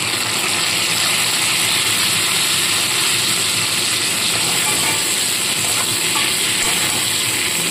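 Pieces of fried fish head are stirred into potatoes already frying in a pan for a fish-head bottle gourd curry. A loud, continuous sizzle is heard up close, with scraping and stirring noises underneath and no speech.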